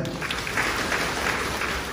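A church congregation claps together during a service, producing a steady burst of many hands applauding that fills the room evenly for a couple of seconds.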